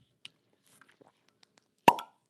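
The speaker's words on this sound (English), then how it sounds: "Let's see about the cork pop on this Pikesville ride." A cork pops out of a bottle of Pikesville rye whiskey, one sharp, loud pop with a brief ringing tail, preceded by faint handling clicks.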